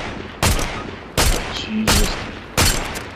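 Four loud bursts of rapid gunfire from a Fortnite match, each lasting about half a second and spaced unevenly, with a brief exclamation from a player between them.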